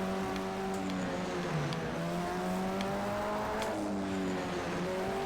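Race car engine in Project CARS 2, droning steadily with rising and falling revs, shifting tones as gears change and tires scrub, loud and constant throughout.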